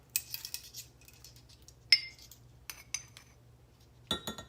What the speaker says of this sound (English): now we're going to put 6 tablespoons of our cream of tartar